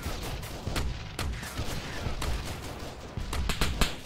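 Artillery bombardment and gunfire in Arma 3 combat, with repeated sharp blasts and shots that pop out of a dense, rumbling barrage and continue unbroken.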